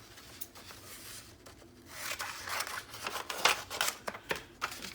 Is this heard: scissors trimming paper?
yes